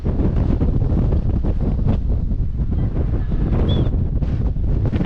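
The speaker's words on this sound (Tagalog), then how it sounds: "Lakas ang hangin." Strong wind roars steadily across the microphone at Souris Swing Bridge in a loud, constant buffeting rumble, with faint splashing water beneath.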